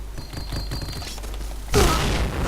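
In the video game Point Blank, a loud, close grenade blast erupts after a stretch of rapid clattering gunfire, leaving a rumbling, noisy decay.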